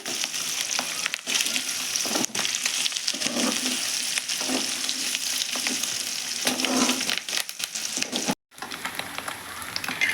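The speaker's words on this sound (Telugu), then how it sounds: "ప్రతి గుడ్లు బాగా ఫ్రై అయినాయండి" Eggs frying with spices in a pan make a dense, continuous crackling sizzle up close, broken by utensil scrapes and a brief dropout near the end, without any talk.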